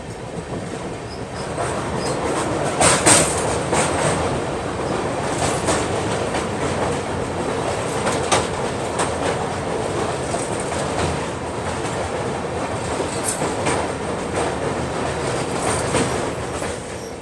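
A Rajdhani Express first class carriage travelling between New Delhi and Dibrugarh, with a steady, loud rolling rumble and a recurring clickety-clack of wheels over rail joints. Occasional sharper knocks come through, and no one speaks.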